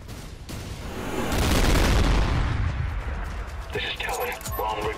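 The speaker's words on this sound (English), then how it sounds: "Commencing airstrike." Airstrike explosions and gunfire in the video game Trepang2: a broad rumbling blast swells to a loud peak, then fades into scattered sharp shots and crackles, with a voice briefly speaking near the end.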